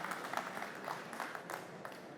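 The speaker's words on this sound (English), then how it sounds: "Let's give these guys a round of applause" An audience at a clean energy product launch gives a short round of applause, a soft, fairly distant patter of many hands clapping for about two seconds.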